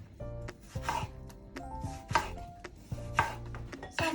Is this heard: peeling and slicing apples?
yes